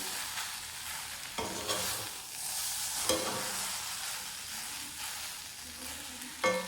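Raw banana frying in oil with garlic and curry leaves, a soft continuous sizzle broken by the periodic scrape and clatter of a spoon stirring the pan, fairly quiet and close.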